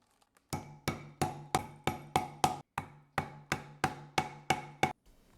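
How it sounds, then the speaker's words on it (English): Rivets are set through leather armor scales with a hammer: about fifteen sharp, ringing metallic strikes in two steady runs separated by a brief pause, close and clear with nothing else heard. "We got 3 holes, we put the rivet through and set them."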